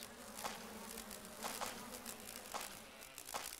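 Bees swarm and buzz around a beehive in the Resident Evil HD video game, a dense, steady drone with a few sharper pulses recurring about once a second, with no talking over it.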